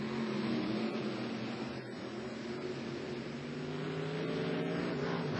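Monster trucks Carolina Crusher and Wild Hare race side by side at a 1990 TNT show in Bowling Green, Ohio, their engines roaring in a steady, loud, droning drone with shifting revs.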